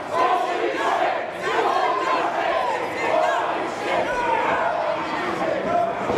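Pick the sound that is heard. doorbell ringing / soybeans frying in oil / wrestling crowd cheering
wrestling crowd cheering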